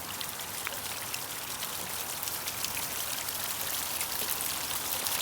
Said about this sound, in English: there's that water flowing out the back